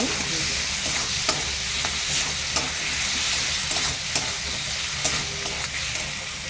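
Brinjal pieces sizzle in mustard oil with mustard seeds while a spatula stirs, giving a continuous fry hiss with regular soft scraping clicks; no voices.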